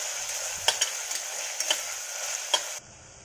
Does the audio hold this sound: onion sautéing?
yes